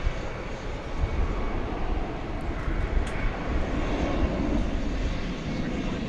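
An American Airlines Boeing 737 MAX 8 bound for San Jose rumbles at night at DFW, a continuous loud jet roar with gentle fluctuations and a few faint high clicks, with no one talking.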